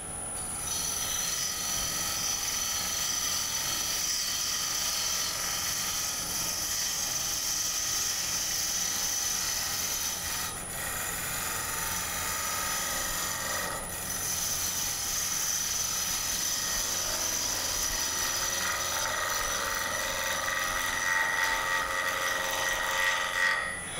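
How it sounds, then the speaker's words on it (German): A bowl gouge cuts along the outside of a square wooden bowl spinning on a lathe, giving a steady, continuous high whirring hiss with a constant motor whine and two brief dips. "Ich setze die Schalenröhre so an, dass ich mit der rechten Flanke entlang der Schalenaußenseite schneiden kann."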